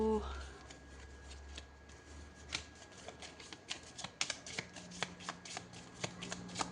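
Oracle cards are shuffled by hand in a quiet room, a run of soft riffling flicks and taps growing more distinct toward the end, faint and close.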